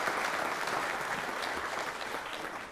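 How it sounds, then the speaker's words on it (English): Steady, dense applause fills a church gathering, honoring the vacation Bible school workers, loud and continuous for a few seconds with no talk over it. "So one more time, let's give them a round of applause for what they did this week to do practical ministry."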